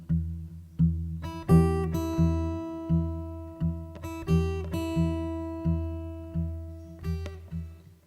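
Acoustic guitar fingerpicking pattern played with thumb and first finger, a steady repeating sequence of plucked notes and bass strums ringing out clearly and alone at moderate volume.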